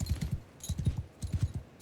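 Horses gallop in Mount & Blade II Bannerlord, their hooves drumming in quick, rhythmic clip-clop bursts, three clear runs of hoofbeats at close range with no talk over them.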